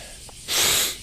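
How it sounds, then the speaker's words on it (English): A single short, sharp sneeze bursts out close to the microphone, a quick breathy intake followed by a hissing explosive release, with no talking around it. "I have sneezes."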